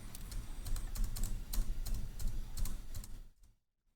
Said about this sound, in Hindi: मैं ये जो कीबोर्ड है वो टैप करता रहूँगा